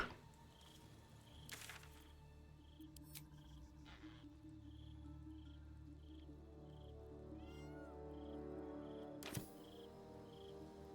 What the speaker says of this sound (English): Keep hearing that fucking cat,